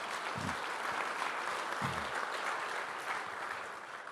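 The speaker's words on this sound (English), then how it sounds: "Please, a round of applause." At a Canadian Club event, an audience applauds with steady, moderately loud clapping that holds evenly for several seconds before tapering slightly, with a couple of low thumps early on.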